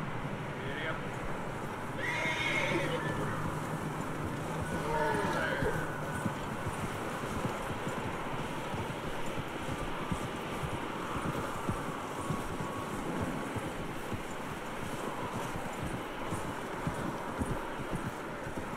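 Horse whinnying near the start in Red Dead Redemption 2, followed by steady clip-clopping hooves over a windy outdoor backdrop, with voices talking.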